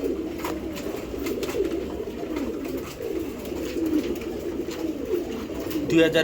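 Racing pigeons coo in a loft, several birds giving low throaty rolling calls close up in a continuous overlapping chorus, with faint background noise.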